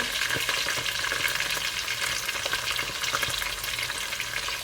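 Carrots, celery and bok choy stir-frying in a hot pan for vegetable noodles, a steady close sizzle with faint stirring scrapes throughout, with no talking.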